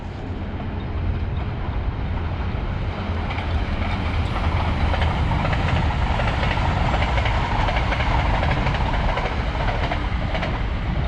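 A Northern Ireland Railways train rumbles past steadily at close range near Downhill, County Londonderry, a continuous broadband roar with faint rhythmic clatter of wheels throughout.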